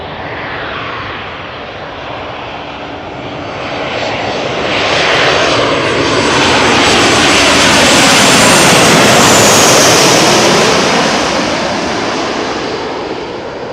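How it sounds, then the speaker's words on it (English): An Anadolu Jet Boeing 737-800 arriving at Schiphol from Istanbul passes overhead, its engine roar swelling to a loud peak with a sweeping whine before easing slightly as it moves away. "Anadolu Jet, flight 7768, Boeing 737-800, arriving from Istanbul"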